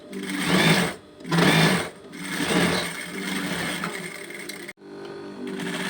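A domestic sewing machine stitches a ribbon tie onto a girl's school dress in close, loud bursts of rapid needle clatter, with short pauses between runs and a brief stop near the end.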